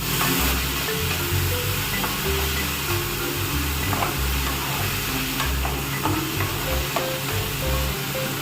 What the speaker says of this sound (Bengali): পেঁয়াজটা আমার হালকা ভাজা ভাজা হচ্ছে